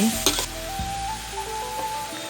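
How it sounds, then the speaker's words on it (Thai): Squid tail pieces stir-frying in a hot pan for a holy basil dish, opening with a metallic clank and then a steady, close sizzle. "จากนั้นก็นำปลาหมึกลงผัดเลยเจ้า"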